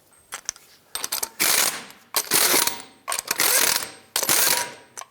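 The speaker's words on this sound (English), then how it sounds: "Start on all 6 of your lug nuts, bottom them out, and then torque them to 83 foot-pounds." A ratchet tightening the wheel lug nuts on a 2003-09 Toyota 4Runner, four rapid clicking bursts in a regular rhythm, close and loud with short pauses between strokes, no voices.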